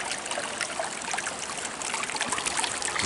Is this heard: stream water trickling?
yes